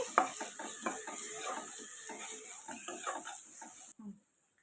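Paneer rice with salt, turmeric and chilli powder being mixed in a pan, with steady scraping and clinking stir strokes for about four seconds before the clip falls quiet.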